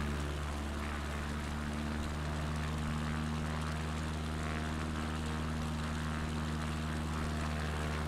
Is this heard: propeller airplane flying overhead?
yes